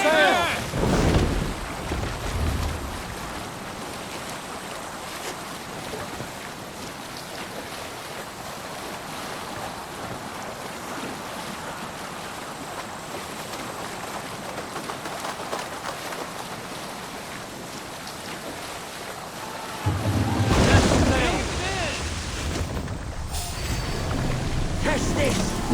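In Assassin's Creed Valhalla, a sailing ship moves through wind and waves with a steady broad wash of water and wind noise, rising again near the end, and voices are heard at the start.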